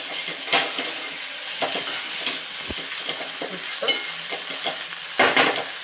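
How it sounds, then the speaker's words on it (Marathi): Okra is stirred in a pan with cumin and coriander powder. A spoon makes scattered scraping strokes over a quiet, steady sizzle, heard close with no voices and a few sharper clinks. "हे मिक्स करून घेऊयात आधी।"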